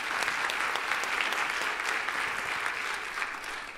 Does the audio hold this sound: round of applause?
yes